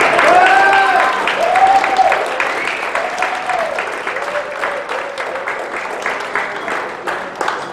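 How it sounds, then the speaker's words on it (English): Audience applause at a community organisation's annual general meeting, steady clapping from a roomful of people that stays loud and fades slightly toward the end, with brief tonal whistle-like sounds over it early on. "A round of applause for Jacob."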